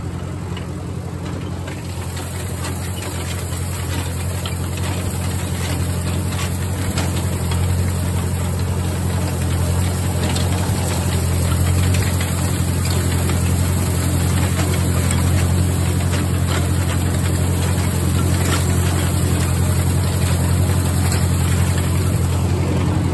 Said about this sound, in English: you all recognize this little tractor